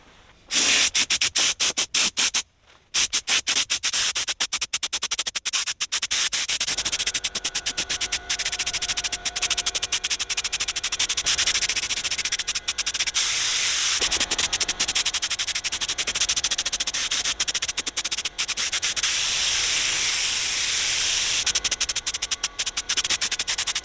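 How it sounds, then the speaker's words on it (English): An aerosol sprays onto the plastic of a classic Range Rover centre console in a long, close, hissing burst that runs almost without a break, with crackly static-like texture and a brief pause near the start. "I'll spray the plastic"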